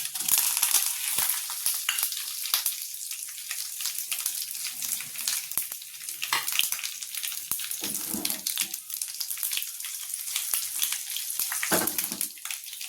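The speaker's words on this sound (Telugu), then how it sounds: "కరివేపాకు, ఎండుమిర్చి వేయాలండి." Curry leaves and dried red chillies fry in a hot-oil tempering with a close, steady hissing sizzle broken by sharp crackles and spurts throughout.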